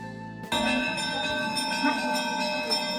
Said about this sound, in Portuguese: Às 7h, o sino toca.